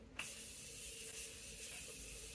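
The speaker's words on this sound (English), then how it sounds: "we're gonna go with the Morphe Continuous Setting Spray" Morphe Continuous Setting Spray misting from its bottle: one close, even, continuous fine hiss that starts sharply and holds steady for about two seconds in a quiet room.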